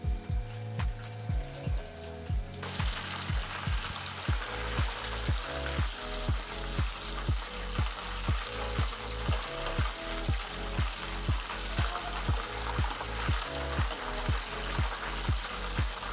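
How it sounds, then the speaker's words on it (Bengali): Prawns frying in hot oil for a Bangladeshi golden fry recipe, a bright continuous sizzle with a steady rapid ticking pulse running throughout, close and even, no voices. "2-3 মিনিট ভাজলেই এটা ভাজা হয়ে যায়।"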